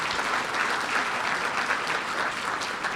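Steady, dense applause from an audience at a chamber of commerce community awards event, continuous clapping filling the room at an even level throughout.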